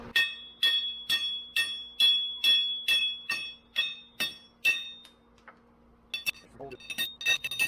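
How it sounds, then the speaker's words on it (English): Steel hammer repeatedly striking wheel studs to drive them out of a Ford Mustang Foxbody hub, about a dozen sharp ringing metallic clinks in steady rhythm, close and loud, then a pause and a few more hits. "You're gonna have to hit the hell out of it."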